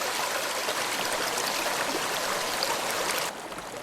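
Drainage water in the DrainSim game flows in a steady, loud rushing stream that continues without a break, easing slightly in the last half second; no one speaks.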